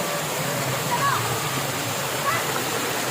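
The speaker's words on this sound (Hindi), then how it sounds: "उसको कहते हैं वाटरफॉल। दामोदरपुर का वाटरफॉल।" Water rushes steadily at the Damodarpur waterfall, a loud, continuous roar filling the whole stretch, with voices faintly present beneath it.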